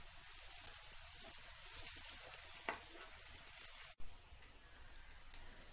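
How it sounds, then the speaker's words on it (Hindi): Bay leaf and ginger-garlic paste frying with browned onions for Punjabi chole masala, a faint steady sizzle with an occasional light clink of stirring and a brief knock near the end. "अब हम इसमें डालेंगे ये तेज पत्ता और अदरक लहसुन का पेस्ट और इसे हम अच्छे से मिक्स कर लेंगे"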